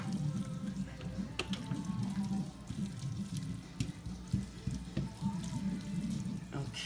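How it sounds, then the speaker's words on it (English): Starchy pasta water is poured into a pan of cacio e pepe with cheese, a steady close trickle and splash that runs for the whole stretch with small clinks. "we'll add some of this pasta water"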